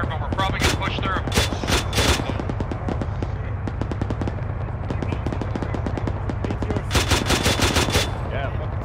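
Bursts of automatic gunfire up ahead of a military convoy in the video game Arma 3, rapid rattling volleys in several clusters, loud and sharp over a low engine rumble, with a dense fusillade near the end.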